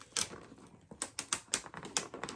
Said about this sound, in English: I'm going to pull out enough tape to tape from one side